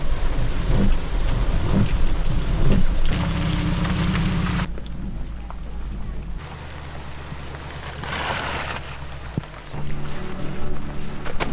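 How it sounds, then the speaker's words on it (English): Heavy rain pours down in a thunderstorm on Mount Mee, a loud continuous roar of drops hammering surfaces with deep rumbling thunder rolling underneath, with no voices. "And right as I finished saying that, let it rain."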